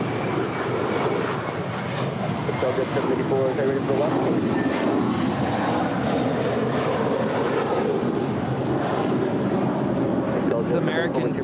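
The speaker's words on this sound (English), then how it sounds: "This is American 608 departing to Philly. It's an A321." An American Airlines Airbus A321 departs LAX, its engines a steady, broad roar throughout, with wind noise and faint talk running beneath the loud continuous jet rumble.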